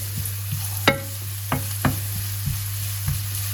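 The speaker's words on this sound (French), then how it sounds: "Je fais revenir un peu mes oignons." Onions fry in a pan for a beef and gruyère puff pastry, a soft continuous sizzle broken by a few sharp utensil scrapes and clicks of stirring under a steady low hum.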